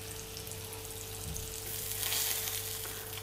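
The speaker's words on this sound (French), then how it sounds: "Dans une poêle chaude, mettre un filet d'huile d'olive, puis colorer le tourne-dos 30 secondes de chaque côté." Norwegian cod tournedos sear in olive oil in a hot pan, giving a steady, soft sizzle that swells a little louder toward the end, with a low electrical hum beneath.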